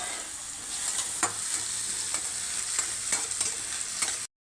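Onion and tomato sizzle in a pan for chicken biryani, a steady close frying hiss with regular scraping stirs of a spoon, ending abruptly, no talking.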